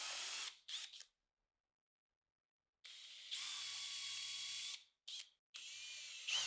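A power drill bores holes in a plywood frame in several loud, close bursts of high whirring, separated by short and long silent pauses.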